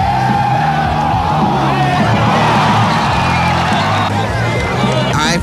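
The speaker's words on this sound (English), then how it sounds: "The crowd is on their feet. They are urging the Swedes on." A football stadium crowd roars and cheers steadily throughout, a dense, loud wall of voices with whoops rising over a constant hubbub, urging the Swedes on at a 1993 game.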